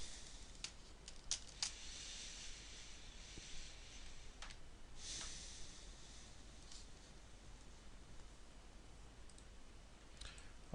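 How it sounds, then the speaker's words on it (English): Scattered clicks and light rustling from a computer keyboard being cleaned, faint and irregular throughout with no talking. "I take this opportunity to clean my my keyboard."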